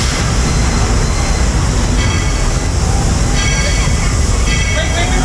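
The Walt Disney World Railroad train runs with a loud, steady rumble and rattle of wheels on track, continuous throughout, with a narrator's voice over it.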